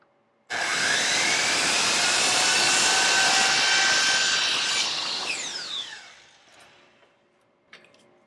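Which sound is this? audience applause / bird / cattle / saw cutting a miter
saw cutting a miter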